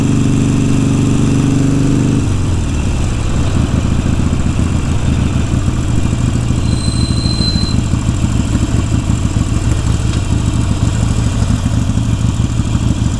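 A Harley motorcycle engine idles with a deep, steady rumble, then settles into a continuous throbbing run for the rest of the clip, close and loud.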